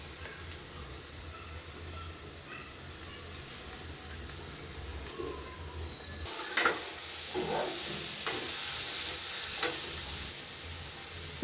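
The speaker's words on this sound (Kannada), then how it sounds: "ಚಾಪ್ ಮಾಡಿ ಇಟ್ಕೊಂಡಿದ್ನಲ್ಲ ಕ್ಯಾಬೇಜ್ ಮತ್ತು ಕ್ಯಾರೆಟು ಅದನ್ನು ಹಾಕ್ತಾ ಇದ್ದೀನಿ." Chopped cabbage and carrot frying in a pan for veg momos, a soft steady sizzle that jumps louder halfway through as the vegetables hit the hot oil, with a few scraping stirs.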